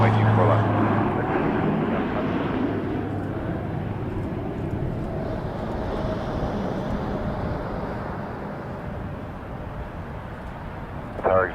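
An airplane landing on runway 24 left at Toronto Pearson Airport gives a loud, steady broadband roar of engines and wind that slowly fades over several seconds, with a brief bump at the very end.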